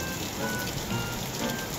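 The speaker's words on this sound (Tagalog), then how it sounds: "It's raining outside." Steady rain pattering on a surface, a continuous close hiss of drops with no voices.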